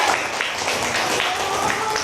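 A class applauds a student who won a karaoke contest, a short burst of scattered clapping from a room of pupils with a bit of chatter mixed in.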